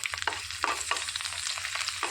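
Four halved green chillies fry in a tablespoon of oil, giving a dense, continuous crackling sizzle up close with quick stirring scrapes.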